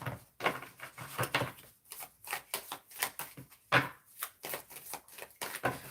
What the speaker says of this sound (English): One more shuffle here of this deck.